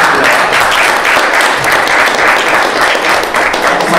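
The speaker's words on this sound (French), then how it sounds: "Je vous demande quand même un petit peu d'applaudissements" Sustained audience applause fills a comics conference hall, dense steady clapping from a large crowd holding loud and even throughout with no break.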